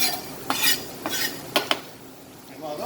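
Garlic and scallions are stirred in a pan, with a utensil scraping and clinking against the metal in several sharp strokes over a soft background hiss.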